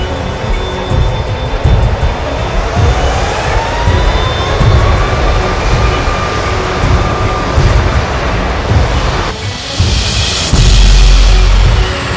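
Airliner engines spooling up to full takeoff power in the X-Plane 11 flight simulator, a steady loud jet roar with a rising whine that swells further toward the end, with no talking over it.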